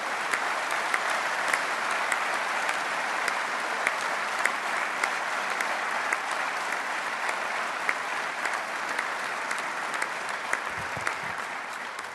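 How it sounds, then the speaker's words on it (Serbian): Steady applause from the hall at a Democratic Party city assembly in Belgrade, many hands clapping evenly and continuously for the whole stretch with no voices over it. "da zaista nevelikim aplauzom da čestitamo ovim ljudima na hrabrosti"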